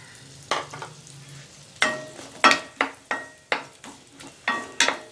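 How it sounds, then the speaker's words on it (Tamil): Two medium onions, sliced lengthwise, sizzle gently in melted butter in a pan while a spoon stirs them in a series of sharp, evenly spaced scraping strokes, close and quiet with no voices. "வெங்காயம் லைட்டாக வதங்கட்டும்"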